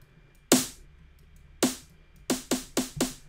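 Unprocessed snare drum sample played in Reason, heard as six sharp, bright hits alone: two spaced single strikes followed by a quicker run of four, each with a short noisy decay.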